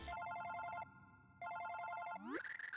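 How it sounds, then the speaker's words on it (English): A telephone rings in the Super Paper Mario video game: two bursts of bright electronic ringing separated by a short pause, then a rising chime, loud and alone with no talk. "Oh wait, that's my phone."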